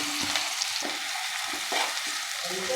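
Onion pieces hiss and sizzle loudly in hot oil with mustard seeds and cumin for an Andhra-style stuffed brinjal curry, with repeated stirring scrapes in the pan, close up and without talking.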